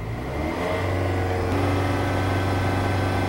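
A gasoline engine runs close by and revs up toward 3000 RPM during oil pressure testing with a bypass filter fitted, producing a steady, loud mechanical drone that rises in pitch and holds there.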